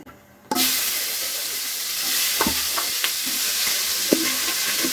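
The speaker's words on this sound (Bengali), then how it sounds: "কপিটা আগে একটু ভাজি করে নেবো আর রোজ কর্মা তো আমাদের সাদা তেলে বেশি ব্যবহার করি তেলটা দিয়ে দেই" Cauliflower pieces, rubbed with salt and turmeric, drop into hot white oil in a home kitchen pan and break into a loud, steady frying sizzle after a brief quiet start, with faint stirring clicks through it.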